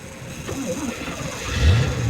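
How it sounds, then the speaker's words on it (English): A car engine that had cut out turns over and catches again, a short rising mechanical rumble that swells near the end, close by over a steady background hiss. "the engine's now back"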